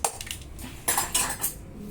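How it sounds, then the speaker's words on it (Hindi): Metal clanks and scrapes as a lid goes onto a pressure cooker holding vegetable pulao, a few short, fairly quiet clatters close by. "अब देखिए ये मैंने कुकर में ढक्कन लगा करके रख दिया है"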